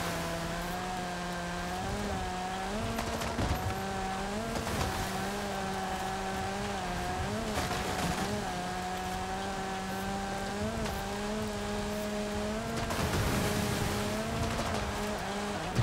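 A rally car in the video game Forza Horizon 5 holds a loud, steady engine drone that rises and falls with gear changes, with bursts of gravel and tire noise throughout.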